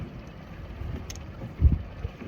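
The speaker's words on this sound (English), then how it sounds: "Wind blows every day." Wind gusts across open water on a North Dakota lake during summer walleye fishing, a low, steady rumble of buffeting against the microphone, with one stronger gust near the end.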